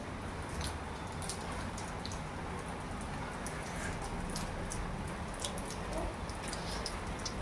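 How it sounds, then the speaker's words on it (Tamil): Heavy rain falls steadily as a dense, even hiss, with sharper drips and patters scattered on top throughout. No one speaks over it. "நல்ல மழை"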